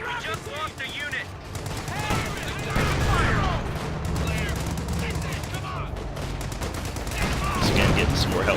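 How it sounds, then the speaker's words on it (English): Machine gun fire rattles in the World War II strategy game Company of Heroes 2, rapid bursts and scattered rifle shots over battlefield rumble and explosions, with someone speaking over the combat. "Those paratroopers with those machine guns make short work with most infantry."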